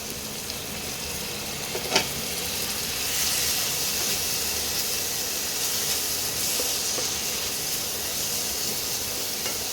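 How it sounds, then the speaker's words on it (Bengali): A splash of hot water hisses loudly into spice paste frying in a pan, a steady close steam-and-sizzle that swells after a sharp crackle and holds throughout with no talking. "মশলাটা যাতে পুড়ে না যায় সামান্য একটু গরম জল দিলাম।"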